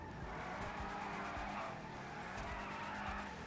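A Declasse Drift Tampa driving and skidding in GTA 5 Online, a steady engine drone with a sustained tyre squeal on top, fairly quiet and continuous with no talking.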